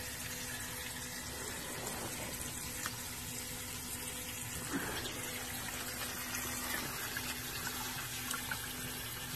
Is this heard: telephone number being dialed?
no